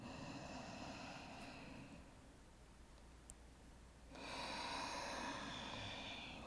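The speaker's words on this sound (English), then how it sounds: "We'll take a big breath in." A deep, drawn-out breath in during a gentle morning yoga stretch, a soft airy rush rising and then swelling louder after a brief lull, close by with no talking.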